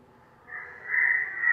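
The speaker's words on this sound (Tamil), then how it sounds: "அந்த காக்கா கத்துறது இங்கே கீழே இருந்து வருதுங்க." A single drawn-out crow caw, nasal and fairly faint, rising in loudness over about a second with no talk.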